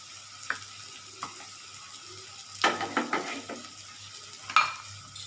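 An egg dish with green chilli and ginger fries in a pan, giving a soft steady sizzle. A few sharp scrapes and clinks of a spoon stirring against the pan break through it at intervals.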